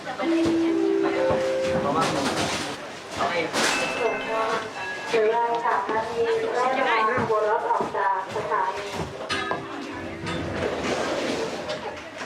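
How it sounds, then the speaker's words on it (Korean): Train noise and a steam-like whistle mix with a busy crowd and a loud Thai announcement, as voices chatter throughout a bustling station by a market in Thailand. "돌아가는 기차가 출발하면 상황은 급변한다."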